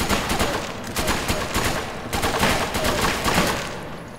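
Gunfire in the video game Resident Evil 5: dense bursts of rapid shots fill the whole stretch, loud and continuous with brief gaps, and no talk over it.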